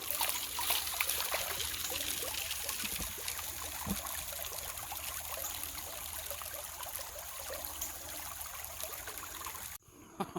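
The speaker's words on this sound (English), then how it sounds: "So I'm gonna wash out the bottom of this bucket." Water running steadily over dirty gold-bearing material as the bottom of a bucket is washed out, a continuous close trickling and streaming flow that cuts off near the end.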